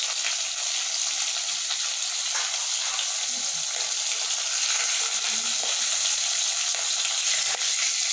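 Fish frying in oil gives a steady, close sizzle with a bright crackling hiss that runs unbroken at an even level, with no voices.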